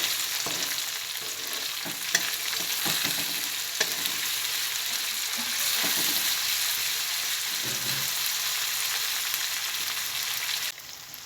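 Cabbage frying in oil with turmeric, cooked with chicken fat, sizzles steadily throughout, with repeated scraping stir strokes from a utensil in the pan; close and loud with no voices.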